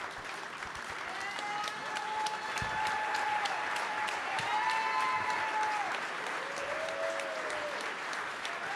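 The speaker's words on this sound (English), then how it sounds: "Everybody, let's give a round of applause Thank you, for folks. Coach McGee." A crowd at the National Collegiate Basketball Hall of Fame induction celebration claps steadily in a large hall, a broad, even round of applause with faint tonal sounds drifting over it.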